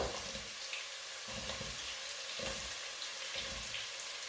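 Onions hitting hot oil with carrots in a pan give a faint, steady sizzling hiss, with soft low thumps recurring about once a second.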